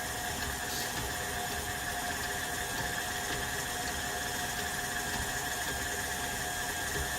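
Electric mixer whirring steadily through cookie dough at a higher speed, a continuous mechanical drone with a faint rattle, fairly quiet and with no talking over it.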